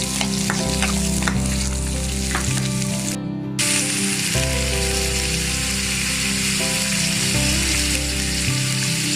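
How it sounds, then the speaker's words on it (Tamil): Coconut and spices sizzle in a pan for tomato chutney, a steady, loud frying hiss over the whole stretch, with a spoon scraping and stirring at close range. "இதெல்லாம் வதக்கி விடுங்க."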